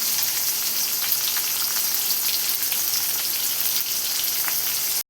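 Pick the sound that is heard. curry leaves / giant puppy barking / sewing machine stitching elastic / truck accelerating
curry leaves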